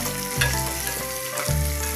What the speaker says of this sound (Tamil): இப்போ நல்லா எண்ணெயிலே ஃப்ரை பண்ணணும்.